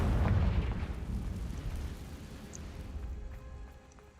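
A Confringo fire spell explodes in the game Hogwarts Legacy, opening with a heavy low boom that rumbles and slowly fades, with a small crackle late in the decay.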